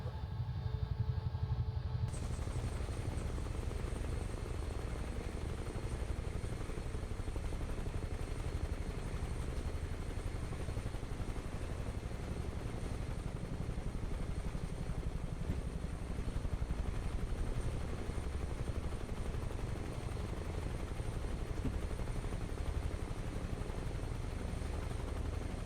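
Huey helicopter flying in a flight simulator video game, a steady low rotor and turbine drone that holds evenly throughout, moderately loud, with no talking.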